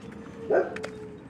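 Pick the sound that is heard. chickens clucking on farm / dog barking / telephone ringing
dog barking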